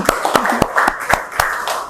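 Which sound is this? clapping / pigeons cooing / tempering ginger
clapping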